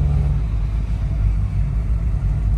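Engines of a 46-foot Transpacific boat throttled down, giving a steady, close, low rumble that drones throughout.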